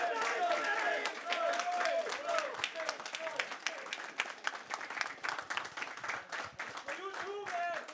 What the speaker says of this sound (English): I want to hear a big round of applause just for Nice Face